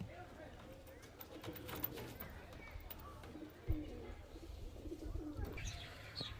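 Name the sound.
pigeons cooing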